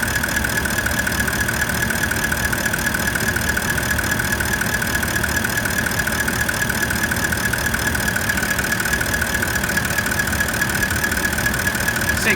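A 79 Series Landcruiser engine idling steadily during an alternator output test, a constant loud hum with an even drone and no talk.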